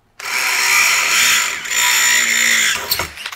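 A power drill with a 6mm bit bores through a melamine panel in one continuous whirring, grinding run of about two and a half seconds, close and loud, then winds down.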